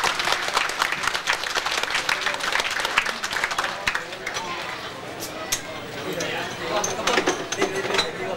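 At a Chinese New Year banquet of Singapore's Tak Sing Koon, guests give dense, sustained applause to a Desheng drum troupe, with scattered sharp claps standing out and voices mixed in.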